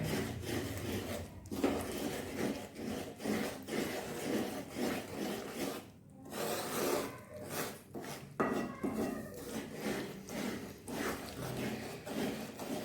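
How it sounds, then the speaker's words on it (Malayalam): Thick cornflakes Mysore pak batter with sugar syrup is stirred steadily in a pan, giving a continuous scraping, rubbing texture with rhythmic strokes, close and moderately loud with no speech. "ഇനി നമുക്കൊന്ന് നല്ല മിക്സ് ചെയ്തെടുക്കാവേ."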